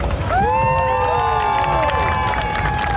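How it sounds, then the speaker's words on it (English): A street show audience in Times Square cheers and shouts loudly and steadily, with whoops and rising voices over a dense crowd roar that lasts throughout. "If you guys enjoyed the show so far, clap your hands and make some noise."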